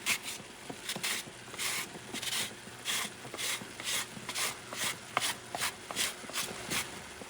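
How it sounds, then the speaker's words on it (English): A carrot scraped over a grater by hand, a steady run of rhythmic rasping strokes, close and moderately quiet, with no talking. "I'm going to grab the carrot. I'm going to mince this baby too, grated."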